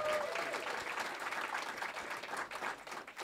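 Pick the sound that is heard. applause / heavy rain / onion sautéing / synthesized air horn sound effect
applause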